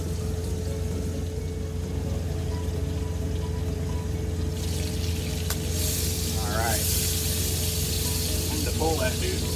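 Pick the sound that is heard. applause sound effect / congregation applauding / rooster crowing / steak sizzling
steak sizzling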